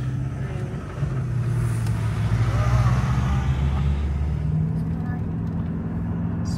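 A two-level truck carrying cows drives past with a steady, loud low engine rumble and road noise throughout, while a person talks over it.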